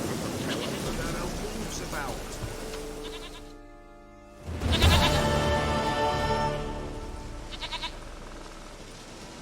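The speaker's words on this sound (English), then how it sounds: "goat of mine, dearest," A goat in The Witcher 3 gives a bleat, a tonal, wavering call near the middle of the clip, with game sounds and a voice around it.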